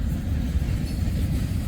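Norfolk Southern locomotive 6963 rumbles past hauling a train, a steady loud low-pitched roar of wheels and engine heard close by without talk.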